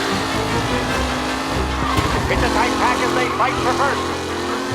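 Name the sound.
race car driving and tire squeal in video game Mafia Definitive Edition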